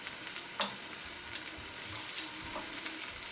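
Korean-style leek pancakes sizzle steadily in a hot pan with a constant bright crackle and a few louder pops, and no talking.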